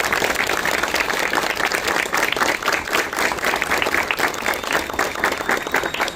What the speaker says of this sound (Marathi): जोरदार टाळ्या वाजून त्यांचं स्वागत करायचं आहे